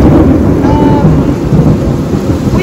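Thunder rolls during a huge wind storm, a loud, sustained low rumble close by, with a dense wash of rain or wind noise underneath.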